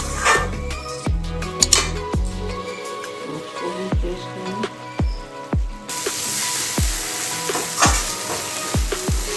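A ground paste of onion, tomato, ginger and garlic fries in a pan for a chicken curry, with a steady close sizzle broken by repeated sharp scrapes and taps of a stirring spoon against the metal.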